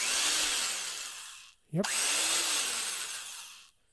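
A restored vintage electric drill runs with a steady high whine, briefly cuts out and spins down near the middle, then revs back up and keeps running before stopping; a voice speaks once briefly.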